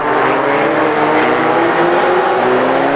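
Stock cars at a race under yellow flags, a dense roar of several engines close by, steady and loud for a few seconds as the pack rolls at reduced speed.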